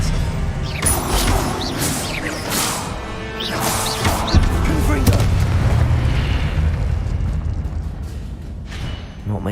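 Expelliarmus spell cast during combat in Hogwarts Legacy, a burst of loud booming magical impacts and sweeping whooshes layered over a dense, continuous battle din, with vocal sounds mixed in.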